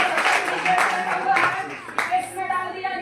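An audience claps together at a talk about DXN health products, a burst of hand claps mixed with murmuring voices and speech.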